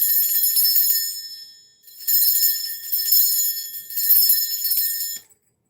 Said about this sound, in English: I'm going to ring this bell now in 3, 2, 1.